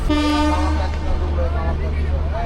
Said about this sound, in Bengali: আমাদের ট্রেন ঢুকে গেল হচ্ছে কামাখ্যা জংশন